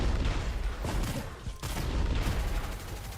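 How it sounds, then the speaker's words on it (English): Explosive bullets fired in a shooter video game: dense, continuous rapid blasts and booming impacts fill the whole stretch, loud and close, with a brief dip midway before the barrage resumes. "Explosive bullets."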